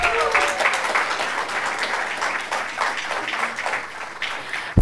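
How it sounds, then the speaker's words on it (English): Audience applause for prize winners at an Indian Medical Heritage Day sports event, a steady wash of clapping hands lasting throughout, fairly close and even, with some voices mixed in. "I request everybody to cheer up for the winners."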